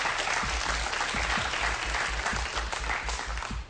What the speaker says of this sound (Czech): To chce potlesk!